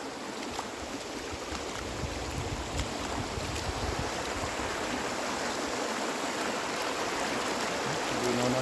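A river flows steadily during a crossing on foot, with broadband rushing water noise and some wind buffeting the microphone, continuous and fairly near.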